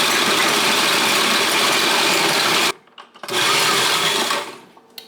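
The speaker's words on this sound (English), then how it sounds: "We're gonna shred up the cheese." Cheese shredded with a kitchen appliance for homemade Cheez-Its: a loud, steady motorized whir runs, stops briefly, then resumes before winding down.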